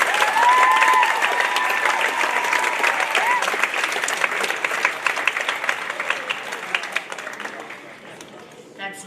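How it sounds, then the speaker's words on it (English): A high school audience applauds its eight winners in a loud, dense burst of clapping that carries on for several seconds before gradually fading; a voice is briefly heard over it. "let's begin by giving another huge round of applause to our 8 winners in high school this"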